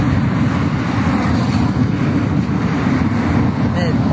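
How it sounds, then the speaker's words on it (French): Strong wind buffets the microphone outdoors on a cold street, a steady low roaring rumble that fills the whole stretch without letup. "Mais le vent est fort là."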